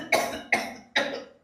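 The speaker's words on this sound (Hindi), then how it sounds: "तेरे इस बुढ़ा को है ना खांसा चल रहा है" An old man coughs three times in a row, each sharp, close cough trailing off before the next, with no talking over them.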